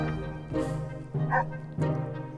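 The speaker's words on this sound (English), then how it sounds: "Oh, was that a barking dog?" A dog barks in the survival game 60 Seconds, three close, loud bursts spaced about half a second apart over steady low background music, with no talk.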